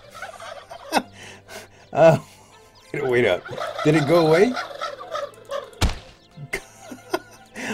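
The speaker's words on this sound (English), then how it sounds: "every time I try to talk, you dadgum turkeys are always making too much noise" Turkeys gobble loudly in the video game Shroud of the Avatar, several warbling bursts near and in the foreground, mixed with thunks and brief clucks while someone speaks briefly.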